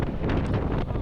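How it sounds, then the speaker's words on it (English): Strong gusts near Beachy Head batter the microphone on a moving 2023 Honda Transalp 750 motorcycle, a loud, steady roar of wind with brief surges and no voices. "it's blowing about 50-mile-an-hour gusts"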